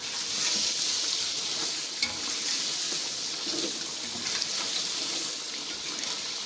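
Steady, loud sizzling with stirring fills the pan as black pepper powder and lemon juice are mixed into a hot, frying Afghani biryani pulao base, with faint scrapes throughout and no talk.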